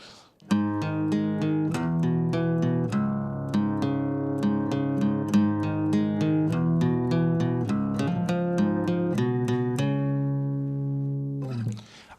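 An electric guitar plays the main riff of a song, a steady, repeating pattern of picked notes that ring out together, loud and up close, with no voices.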